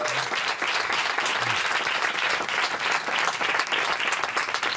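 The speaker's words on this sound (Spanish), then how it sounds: "Un fuerte aplauso para ellos" Studio audience applause fills a live show venue in Barcelona, a dense, steady wash of clapping from a large crowd that holds loud and even throughout with no pauses.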